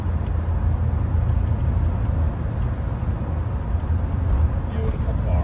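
Steady low road rumble and hum inside the cabin of a 1990 Mercedes-Benz 420SEL (W126) while driving, a smooth, even drone with no distinct events.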